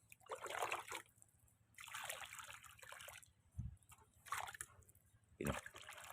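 Water from a hand dipper is poured onto a grape plant in about five separate quiet bursts of splashing and trickling, with soft thuds between pours.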